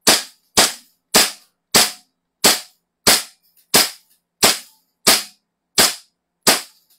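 Toy gun firing eleven sharp, loud cracks at an even rhythm about every 0.6 seconds, each pop followed by a short decaying tail, with silence between shots and no talk.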